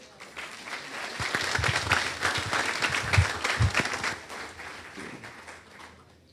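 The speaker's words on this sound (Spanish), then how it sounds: "pido un fuerte aplauso" An audience applauds speakers at a congressional event in Peru, steady clapping that swells and then fades over several seconds.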